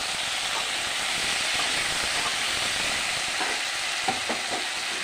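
Tangra fish and potatoes frying with turmeric and salt in a pan, giving a dense, steady sizzle and hiss that stays loud and close throughout, with a few faint clinks near the end.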